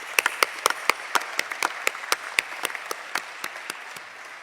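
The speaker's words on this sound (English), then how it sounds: "I want to give them a round of applause." A community meeting audience, gathered after a severe weather event in Nelson Tasman, claps for local helpers, a scattering of distinct sharp handclaps that thins and tapers off over a few seconds, fairly close.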